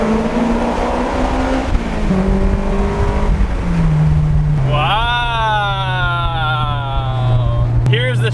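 Honda car driven on the road after a shifter rebuild, engine revving up through the gears with rising and falling pitch, loud and close from inside the cabin, with a brief voice.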